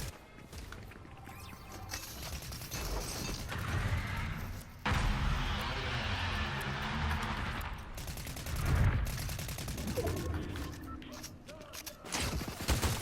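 Bursts of Fortnite gunfire crackle across a busy firefight, with repeated rapid shots and impacts at close to mid range, mixed with footsteps and game effects while players talk over the action.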